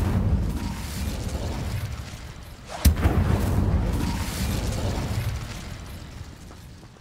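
In Hogwarts Legacy, the Incendio fire spell goes off with a sharp burst near the middle. A rumbling, crackling roar of flame surges around it and then slowly fades.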